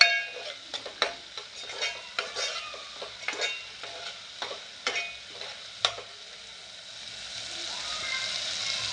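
Red masala being sautéed for a crab curry, with rhythmic clinks and scrapes of a spoon stirring in the pan over a low sizzle that fades to a steady hiss near the end, close by, without speech.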